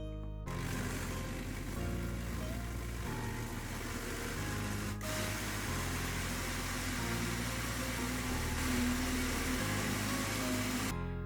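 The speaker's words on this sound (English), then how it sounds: "you can blend it, and you should blend all this thing very smooth" A blender whirring steadily as it purees rendang spice paste with water, a continuous loud motor drone held throughout with only slight shifts in pitch.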